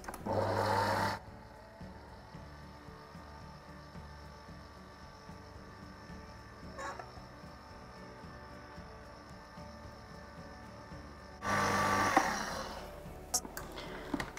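An electric mixer runs on very low speed, beating chocolate brownie batter as a steady, moderate drone, with louder bursts at the start and near the end.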